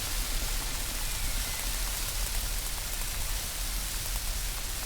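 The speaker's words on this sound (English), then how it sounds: "the rain coming down sounds more like a really noisy" Steady rain pours down in the Vintage Story video game, a dense, continuous hiss of falling water that stays even and fills the scene with no voices.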